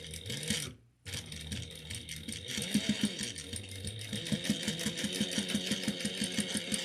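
A sewing machine stitches with 40 weight gray thread and pivots with the needle down. After a brief stop, the close, rapid needle chatter resumes in a steady rhythm.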